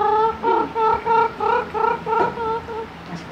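A man imitates a rooster with his voice, giving a rapid run of about seven loud, clucking bursts in a steady rhythm, close up and without other talk.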